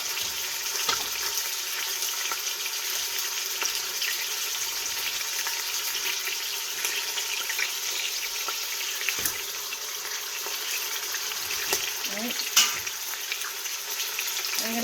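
Chicken pieces frying and browning in an Instant Pot, a steady, close hiss and crackle of hot oil running evenly throughout with a few faint clicks.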